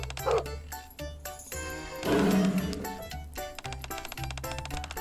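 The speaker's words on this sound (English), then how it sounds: "Max, the dogs." Dogs bark in a cartoon-like scene full of busy music and effects, with a few short bark-like bursts mixed under the soundtrack rather than standing alone.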